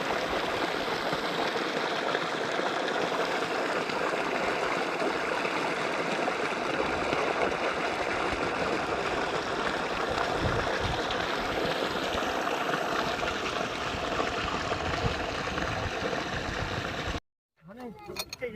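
Water gushes steadily from a solar-powered bore pump in a rural area, a loud continuous rushing flow that runs unbroken for most of the stretch before cutting out briefly near the end.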